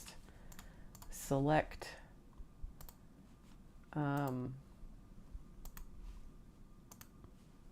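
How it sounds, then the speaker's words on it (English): Quiet clicks of a computer keyboard as text is typed for a scrapbooking layout, scattered keystrokes under a person talking. "You just type in some text,"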